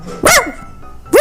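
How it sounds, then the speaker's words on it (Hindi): A dog barks loudly at a street sweeper sweeping in front of the house, two sharp, close barks with a short pause between them. "भौंकने लगता है"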